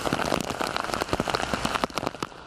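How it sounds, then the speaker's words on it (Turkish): Steady rain pours down in Istanbul after a long dry spell, a dense, continuous patter of drops hitting surfaces close by, with no voices. "Aylardır beklenen yağmur sonunda biraz da olsa İstanbul'a yağdı."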